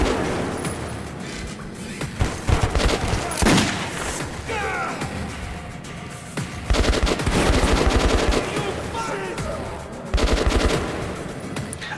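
Machine gun fire in the Metro 2033 Redux video game, rapid bursts of gunshots crackling in several loud volleys over a busy background of game noise, with repeated sharp reports.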